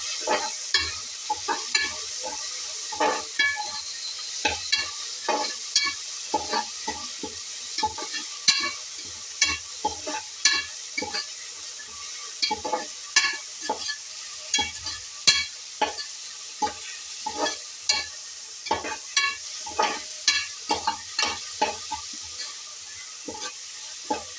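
Cardamom pods being stirred into pulao frying in a pan, a steady run of sharp scraping stir strokes over a constant soft sizzle, close and without speech.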